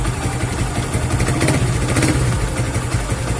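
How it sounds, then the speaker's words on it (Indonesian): A Yamaha New Vixion Lightning motorcycle engine runs steady and loud up close, its throttle blipped with a slight rise in revs, no voices over it. "Ini kita coba gas lagi bro."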